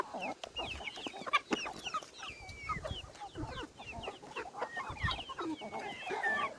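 Farmyard hens cluck busily while feeding, with chicks nearby. Overlapping clucks and chirpy calls come close and continuously, with no talking.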